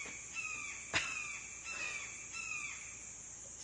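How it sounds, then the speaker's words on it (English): Red-tailed hawks calling in a forest, with several thin descending screams drawn out across the stretch, moderately distant and faint over quiet woodland ambience. "And there's one today who's really talkative on this side."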